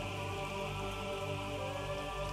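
Rain falling in an anime episode, a steady, dense patter of drops on surfaces that continues evenly throughout without any break or talk.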